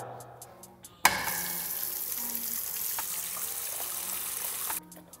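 Tap water runs into and around the inside of a football boot during cleaning, a steady close splashing rush that starts abruptly, holds for about four seconds, then cuts off.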